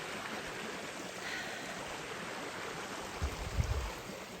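A river on the Appalachian Trail flows with a steady broad rush of water, close and continuous, with a brief low thump near the end.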